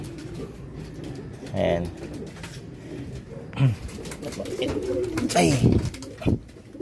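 Pigeons coo and call around a racing loft as a hen returns during a derby race, brief bird calls rising under occasional spoken remarks from a man nearby.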